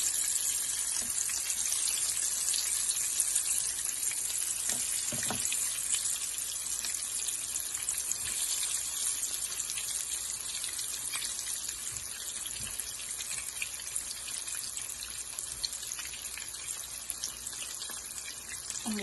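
Potatoes fry in a fair amount of oil in a small pot, making a steady, dense sizzling hiss that stays even throughout, heard up close without speech.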